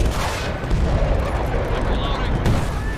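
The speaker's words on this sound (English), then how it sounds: "Put a mortar strike down on them." Mortar strike explosions in Battlefield Bad Company 2 rumble heavily and continuously, with booming blasts and gunfire layered close and loud under a talking voice.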